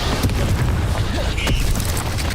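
A Confringo blasting curse explodes in Hogwarts Legacy, a loud booming blast with sharp cracks over a continuous rumbling din, alongside a brief chirping effect.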